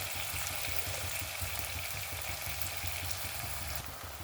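Green chillies, sliced onion and curry leaves sizzle steadily in hot oil in a pan for a homestyle chicken curry, a close, dense, continuous frying hiss with no talk.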